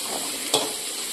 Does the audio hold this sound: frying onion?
yes